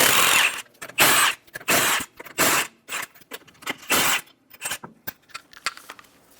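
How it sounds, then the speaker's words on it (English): Five lug nuts come off a Chevrolet Sonic front wheel with a 19mm socket on a power tool, heard as a series of short, loud whirring bursts with brief pauses between them. "remove the 5 lug nuts."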